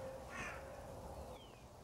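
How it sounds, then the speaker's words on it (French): A crow gives a short, harsh caw, moderately close, against a steady background hiss with no speech. "il y a un corbeau"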